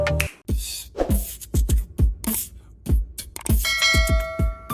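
A notification bell sound effect plays alone. Several short, bright metallic strikes and dings land in quick succession, loud and close, and a sustained ringing chime closes the sequence.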